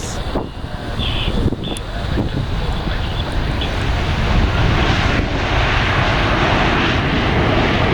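Qantas Boeing 787 airliner landing at Sydney, a steady loud roar of engines and rushing wind noise filling the whole stretch, with no break and no voices.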